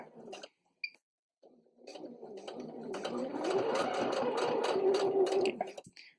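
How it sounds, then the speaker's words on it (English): Sewing machine back-stitching a wet bag for cloth pads, a short burst of whirring, then a brief pause and a longer, louder steady mechanical hum with a rapid ticking rhythm, close by, with a soft voice at the start. "So I'm gonna back stitch a couple times here."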